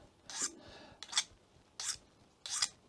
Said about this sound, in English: I'm gonna try to use just the sharpening stone part of this